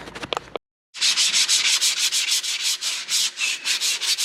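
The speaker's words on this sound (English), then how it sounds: "Kevin's got some emery cloth on there and he's polishing up that surface." Emery cloth rubs hard and fast over the metal surface of a Deere 700J dozer undercarriage, close and loud, in quick rhythmic back-and-forth strokes after a brief pause.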